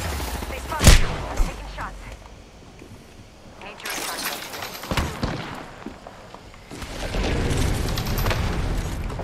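Gunfire in a battle-royale video game, a few sharp shots early then scattered bursts, fairly close, mixed with game noise and under a player's voice.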